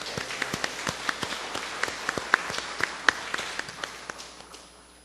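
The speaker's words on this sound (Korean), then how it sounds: "우리 아버지께 영광의 박수를." A church congregation claps in praise after a sermon, a dense close patter of many hands that swells with sharp accented claps before easing off, with no one speaking.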